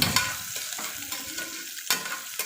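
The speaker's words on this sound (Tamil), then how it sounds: "இப்போ பாருங்கள், வெங்காயம் காஞ்சி மிளகாய் 2த்தையும் ஆட் பண்ணி நல்லா ஃப்ரை பண்ணியாச்சு." Onion and dried red chillies sizzle in a pan for a goat liver fry, a steady crackling fry broken by several sharp stirring scrapes, close and moderately loud with no talking.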